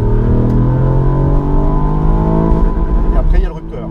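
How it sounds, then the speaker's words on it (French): Ford Puma ST's small three-cylinder engine revving hard toward 6500 rpm, a loud steady harmonic drone with layered engine tones that drops off near the end. "Ça monte à 6500 tours ce petit 3 cylindres."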